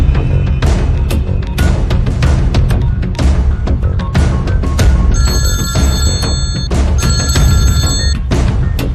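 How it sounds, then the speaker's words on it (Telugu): A telephone bell rings loudly and repeatedly in bursts during a film scene, layered over a dense, loud background of music and rumble. "ఏయ్ దుగ్గల్ కి ఫోన్ కొట్టు"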